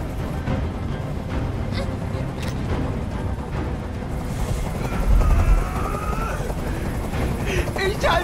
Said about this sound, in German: Ich halte diesen Krach nicht mehr aus. Dieser Helikopter soll verschwinden.